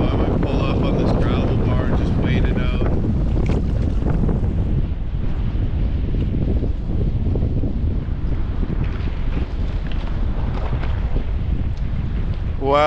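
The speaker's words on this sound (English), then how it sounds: "I have been waiting out the wind here on this random gravel bar." Strong wind gusts buffet an open river and gravel bar in the Yukon wilderness, a steady loud roar with rushing, wave-like surges continuing throughout.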